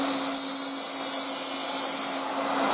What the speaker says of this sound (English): I can actually do a nice finishing cut across the bottom by shear scraping or shear cutting